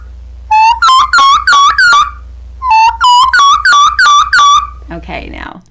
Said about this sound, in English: it's a turkey call